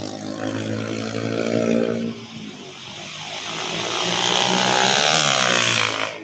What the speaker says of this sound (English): I hate motorcycles like that. Too much noise.